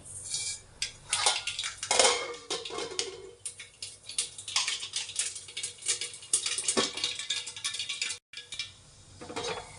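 Mustard seeds dropped into hot oil in a pan sizzle and crackle busily, with scattered pops and some clinks of utensils against the pan, close and fairly loud throughout.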